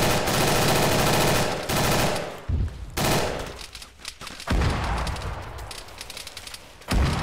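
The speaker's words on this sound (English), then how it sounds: "We got targets to our left firing at us." Enemy gunfire in an Arma 3 Vietnam-era firefight, with loud, sustained automatic bursts and rapid volleys that stop and start several times, some shots close and heavy.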